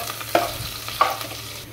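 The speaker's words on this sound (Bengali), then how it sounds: "দিয়ে পেঁয়াজগুলো আমি একটু লালচা করে ভেজে নেব" Onions frying with bay leaves in a pan, a soft sizzle under two brief stirring scrapes of a spatula, close and fairly quiet.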